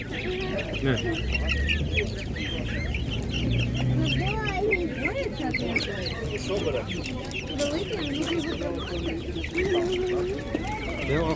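Chickens cluck steadily at a busy animal market where laying hens and geese are sold, a dense layer of overlapping clucks and calls under a constant crowd murmur and people talking.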